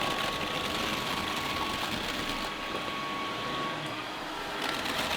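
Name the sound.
Dreame Aero Pro Steam wet dry vacuum mop suctioning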